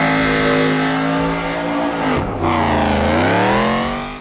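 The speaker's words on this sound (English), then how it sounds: "they went with the GT500 engine, and then we ended up swapping a Whipple supercharger on it" A Ford GT500 engine fitted with a Whipple supercharger revs hard, its loud, close note climbing and holding, dipping sharply for a moment, then rising again before easing off at the end.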